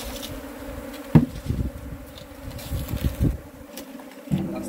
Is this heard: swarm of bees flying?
yes